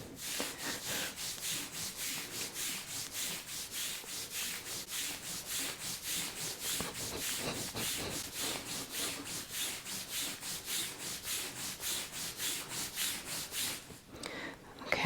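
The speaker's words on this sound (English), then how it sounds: "I'm going to rub the sides of your thighs quite strongly." Hands rubbing strongly up and down the sides of a patient's thighs during a kinesiology treatment, a fast, steady back-and-forth swishing friction heard close and alone, stopping shortly before the end.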